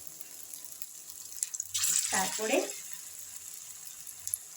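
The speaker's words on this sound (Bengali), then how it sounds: "আমি কোপ্তাগুলো এবার তেলে ছাড়ছি, ভেজে ভালো করে তুলব" Bottle gourd kofta balls drop into hot oil and start frying, with a sudden bubbling sizzle rising over steady background hiss for a couple of seconds, then easing, while a voice speaks briefly.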